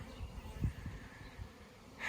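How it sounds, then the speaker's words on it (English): Faint, steady bee buzzing outdoors near hives, a low hum with a few slightly louder passes as bees fly nearby. "Bees are flying."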